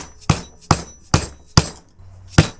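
Five sharp metal hammer blows drive a new seal into a Jeep Wrangler YJ transfer case, each strike a loud, ringing impact spaced about half a second apart, close up with no talking.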